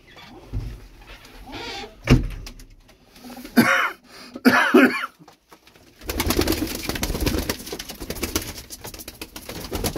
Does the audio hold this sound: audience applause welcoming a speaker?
no